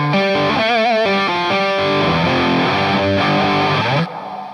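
Heavily distorted electric guitar from a 1959 Gibson Les Paul played through a cocked wah pedal, loud and close, with sustained notes, vibrato-bent phrases and a nasal, filtered tone that fades slightly at the end.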